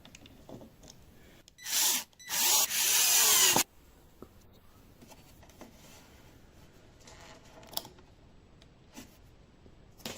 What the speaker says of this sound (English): next we'll screw the two screws back in tightly.